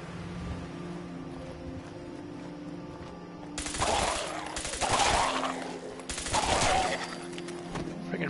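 A gun firing in the video game Fallout 4, heard as three bursts of rapid shots over a steady low hum, each burst a second or so long and fairly loud, with no talking.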